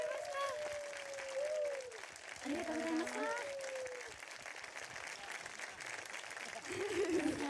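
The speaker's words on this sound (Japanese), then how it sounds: "大きな拍手で送ってください。" An audience applauds at a 2020 live tour concert as support members leave the stage, with steady clapping running throughout beneath a voice speaking and brief sung or tonal phrases.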